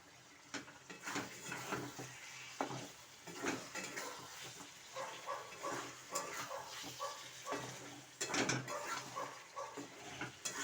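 Potatoes fry and get stirred in a pan on a home stove, with soft sizzling under repeated scraping and clinks of a utensil against the pan, fairly quiet and close.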